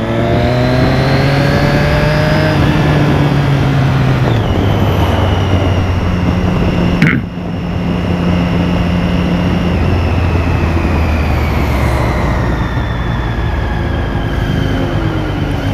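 Busy Brazilian highway traffic on the Lima–Curitiba route: a loud, continuous drone of engines with shifting tones as vehicles pass and change speed, and a brief dip midway, with no talking.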